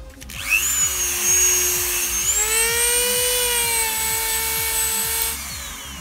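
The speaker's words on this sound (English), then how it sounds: "So I'm going to change the tool over to a wire brush now and just hopefully skim some of that away." Power tool fitted with a wire brush cleaning a metal wheel, a loud, steady high whine with rising pitch over a rapid rhythmic chatter, running continuously up close before spinning down near the end.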